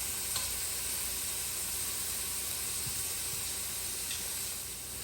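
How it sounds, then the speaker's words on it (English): Garlic sweating in a pan on low heat, a soft, even sizzle and hiss that holds steady and fairly faint throughout, with a couple of light clicks and no voices. "So I just want to sweat these. I certainly don't want to burn the garlic."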